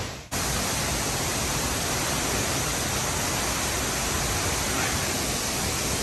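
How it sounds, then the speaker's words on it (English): The Cascada de Mizola waterfall roars in a steady, loud, broadband rush after a brief quieter moment at the start. It is heard from close by and continues without any talking. "a little entrance from the back of the Cascada de Mizola, which is a waterfall"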